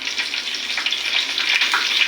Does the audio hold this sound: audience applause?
no